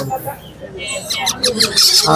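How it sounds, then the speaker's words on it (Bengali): Baby myna and parrot chicks call at a busy bird market, with shrill, rapid squawks and chirps rising in intensity close by over a low crowd murmur. "দর্শক আমরা দেখতে পাচ্ছি এখানে তো রয়েছে ময়না টিয়া ও তোতা পাখির বেবি"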